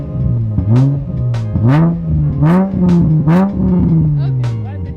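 A Nissan 350Z engine revs repeatedly in short rising and falling bursts during a race against a Subaru WRX, loud and close, with people talking over it.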